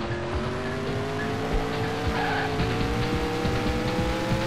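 Race cars roar around the track in WildTangent Speedway, a steady loud engine drone with rising and shifting engine tones and occasional tire squeal, continuous throughout with no talking.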